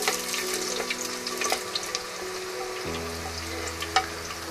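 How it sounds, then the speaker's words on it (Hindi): Onions hiss and crackle in hot oil, a steady close-up sizzle with occasional sharper pops and a low background hum. "तो मैं ये इसमें ऑयल गरम में प्याज शामिल कर दूंगी।"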